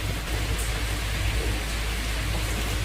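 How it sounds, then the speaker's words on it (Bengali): Heavy rain pours outside in a dense, steady roar of hiss and low rumble, constant and loud with no distinct drops or voices. "দেখো বাইরে একদম ঝমঝমিয়ে বৃষ্টি হলো"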